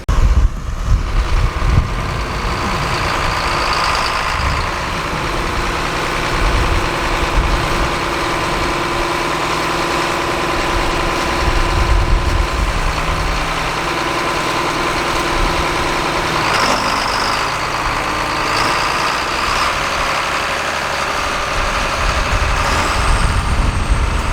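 A John Deere 4555 tractor idles nearby with a steady, low diesel rumble that holds for the full stretch, with a few faint hisses and squeaks over it and no talking.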